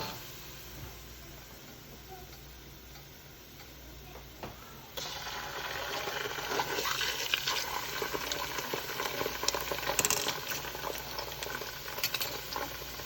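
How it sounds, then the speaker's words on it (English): Tomato paste hits a pan of browned garlic partway through, and a quiet simmering turns into a louder, crackling sizzle that keeps bubbling close by. "I got the garlic nice and brown now. Take a look. And I'm going to add the tomato paste"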